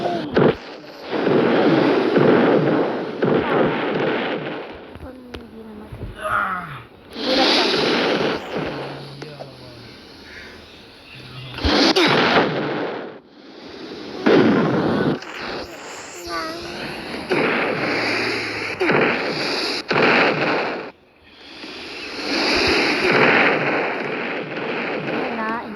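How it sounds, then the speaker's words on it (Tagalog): Explosions and gunfire-like blasts in the Roblox video game come in loud bursts throughout, with a voice talking excitedly between and over them. "Pinasabog pa talaga."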